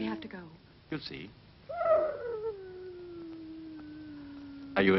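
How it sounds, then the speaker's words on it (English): A wolf's long howl from a 1962 horror film rises and then slides slowly downward. It sounds moderately distant and stands mostly alone between brief bits of other sound. "Are you afraid of the wolves?"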